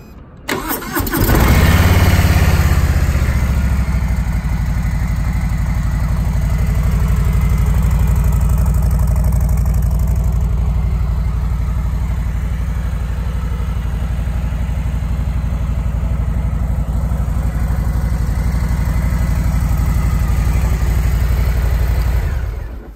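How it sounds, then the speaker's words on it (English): A 2019 Harley-Davidson Softail Slim with a Milwaukee-Eight 107 V-twin starts up with a brief crank, then settles into a loud, steady, close-up idle that rumbles evenly for about twenty seconds before cutting off. "Let me start this bike for you."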